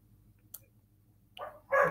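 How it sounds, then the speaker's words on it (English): A dog gives a couple of short, sharp barks indoors after a faint tick, the louder final bark close and clipped at the end of an otherwise quiet moment. "sorry my dog's distracting me"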